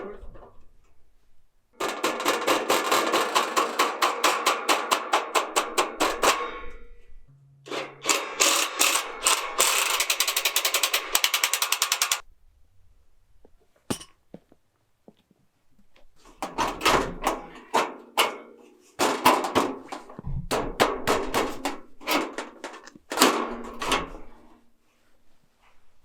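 Power driver backing screws out of framing in an off-grid workshop: several loud, close bursts of rapid ratcheting buzz separated by pauses, each run lasting a few seconds.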